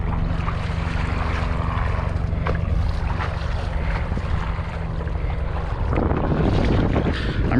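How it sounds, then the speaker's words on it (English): Wind roars steadily across the microphone while wingfoiling near a jetty, with water and waves rushing underneath and a gust building toward the end. "Feels like there's enough wind."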